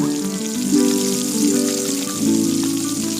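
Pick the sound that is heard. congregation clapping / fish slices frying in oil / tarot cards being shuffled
fish slices frying in oil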